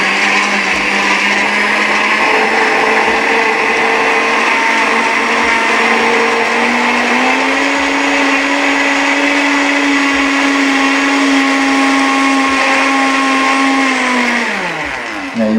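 A blender whirs loud and close for a long stretch while blending coconut meat juice, its motor pitch climbing partway through and holding steady before winding down sharply at the end.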